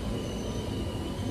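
Train wheels squeal steadily at a railway station near Geneva, a high metallic whine over low rumbling, loud and continuous with no talking.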